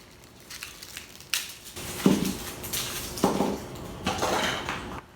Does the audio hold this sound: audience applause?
no